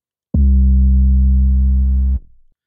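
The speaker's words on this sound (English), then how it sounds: "these 808s were ran through a distortion pedal like that" A distorted 808 bass note, saturated by a guitar distortion pedal, sounds alone as one loud sustained low boom lasting about two seconds before cutting off into a short decaying tail.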